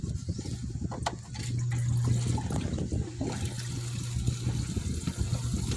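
An aquarium filter pump returns water to the tank, a steady splashing, gurgling pour, close and continuous, with a low hum beneath it.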